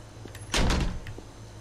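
A door in the Krusty Krab video game shuts with one loud, heavy thud that fades briefly, set against a quiet background hum.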